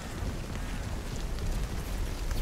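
Steady rain pours in the Nightingale video game, a dense, continuous hiss with low rumbling underneath and no voices.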